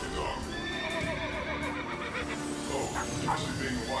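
The robot dog K-9 imitates a horse with a whinnying neigh, and hoof-like clip-clop sounds run beneath steady speech.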